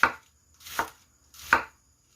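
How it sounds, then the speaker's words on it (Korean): A knife slices food into thin strips on a cutting board with three crisp, evenly spaced chops close by, separated by short silences. "채 썰어주세요"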